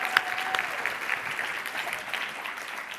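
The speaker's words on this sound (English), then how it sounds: "I just want to give Mark a round of applause if we could, please." Applause rises from a convention audience at a closing plenary, a steady spread of clapping from many hands with a brief voice at the start.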